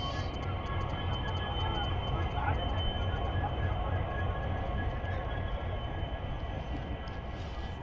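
Mysuru–Talguppa Intercity Express rolling along the line, a steady low rumble and rattle of the carriages with faint squeaks, heard from inside the train.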